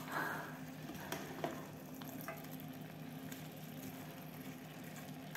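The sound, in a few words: vegetables frying and sizzling in a pan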